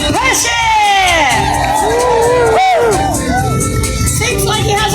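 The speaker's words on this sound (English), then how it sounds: "Can we have a big cheer for Sir Cedric of Perthshire?" Crowd at a jousting show at a country fair cheering for a knight, a loud, sustained mass of shouts, whoops and children's screams, close and continuous.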